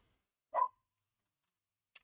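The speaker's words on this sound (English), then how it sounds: "I do apologize for my dog barking." A dog gives one short bark in another room of a quiet house, heard faintly against near silence, followed by a tiny click a moment later.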